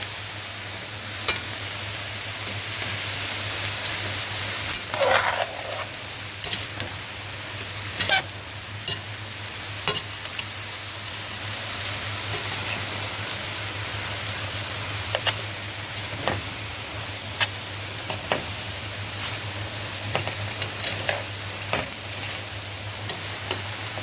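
Moussaka vegetables sizzle steadily in a pan while a utensil stirs and scrapes, making irregular clicks and taps against the metal over a constant hum.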